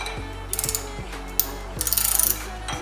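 A wrench ratchets on the drive shaft bolts of a Nissan 350Z being prepped for drifting, with clicking pawl bursts and a quick run of rapid clicks near and close-up.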